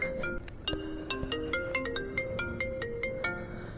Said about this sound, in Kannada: ಇನ್ಶೂರೆನ್ಸ್ ಅವ್ರು ಫೋನ್ ಮಾಡ್ತವ್ರೆ.